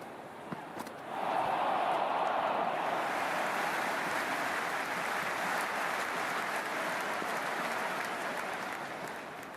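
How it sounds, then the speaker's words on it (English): A cricket stadium crowd roars after a boundary four in the IPL 2026 final between RCB and GT, a dense wash of cheering that swells after a second and holds steady, distant and broad. "The crowd love that one."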